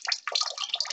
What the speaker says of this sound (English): now your aquarium water is coming out from the garden hose